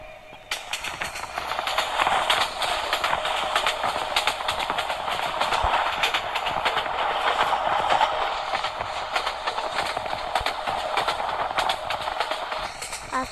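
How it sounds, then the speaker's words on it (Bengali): Suborno Express in a Bangladesh train simulator game runs at high speed, a steady rattling rail drone with clickety-clack texture filling the clip after a quiet start, with no talk. "ট্রেনটি এখন আমরা অনেক স্পিডে চালাচ্ছি।"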